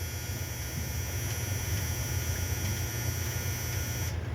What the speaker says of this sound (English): we hope that you love my dryer going off in the background